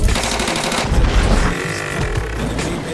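A gun loaded with non-lethal rubber bullets fires a loud, rapid burst of close shots that drops slightly in level and then keeps popping steadily, with no voices over it.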